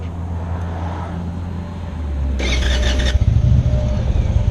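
A 2016 Indian Chieftain motorcycle engine idles after a warm start, a close, steady low rumble that swells midway with a brief burst of brighter mechanical noise before settling into a deeper throb.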